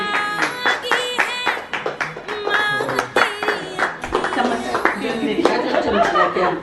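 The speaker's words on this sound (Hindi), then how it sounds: "जोरदार तालियां" Family members clap loudly during a Mother's Day celebration at home, sharp uneven hand claps mixed with chuckles and laughter while people talk and call out over them.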